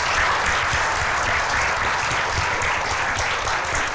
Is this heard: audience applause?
yes